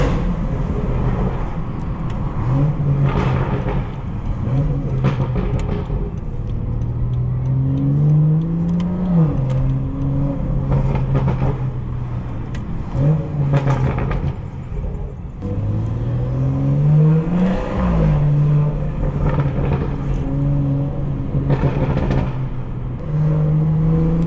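Modified BMW 440i engine droning and revving from inside the car on bumpy New York City streets, with rising and falling gear pulls across a long steady run.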